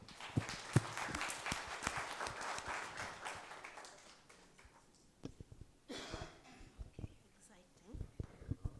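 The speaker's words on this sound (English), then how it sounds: "Round of applause for that group." A room of summit attendees gives a group a round of applause: a few seconds of mixed clapping that fades out, followed by a person speaking.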